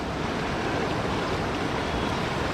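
Water of the Ganges river flowing at the Triveni Ghat bank, a steady, loud, continuous broadband rush of moving water close by, with no voices.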